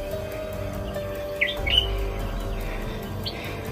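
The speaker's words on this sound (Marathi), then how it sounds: "खूप सुंदर पक्ष्याचे आवाज येतात इथं," Birds chirp and tweet at Hadsar fort, a hill fort, with a few short bright calls over a steady low outdoor hum and rustle, fairly faint and distant, with no voices.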